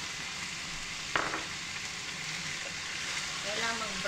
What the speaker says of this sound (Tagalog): Tapos, igisa ko na siya sa oil na mismo.